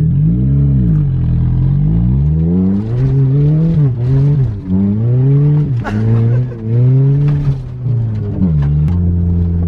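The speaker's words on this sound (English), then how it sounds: "this is Ryan's first time driving the beater" An old beater car is driven hard and fast, its engine loud and close, revving up and down repeatedly through gear changes with rough clattering undertones.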